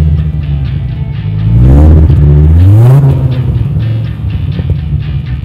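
A 1998 Dodge Viper GTS-R Coupe's engine idles with a deep burble, then revs hard twice in quick succession, the pitch sweeping up and falling back before settling into a rough idle, loud and close.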